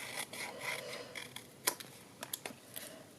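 Scissors trim paper for a monochrome gift box, close and quiet: a series of soft rubbing snips followed by several short, sharper cuts spaced irregularly, with no talk.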